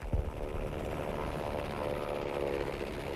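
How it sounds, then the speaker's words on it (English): A propeller warplane drones overhead in a Battlefield V match, a steady, fairly faint engine hum that holds evenly throughout with no talking over it. "There's a plane."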